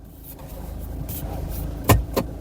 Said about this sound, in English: It tried to engage second gear.